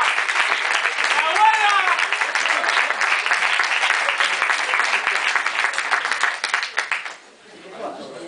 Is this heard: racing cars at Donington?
no